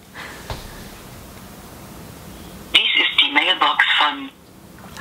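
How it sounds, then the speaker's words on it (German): A phone call rings out faintly and then goes to voicemail, where a tinny, narrowband voice plays over the line for about a second and a half before cutting off. "Ich wollte dich eigentlich anrufen, aber bei dir geht leider nur die Mailbox dran."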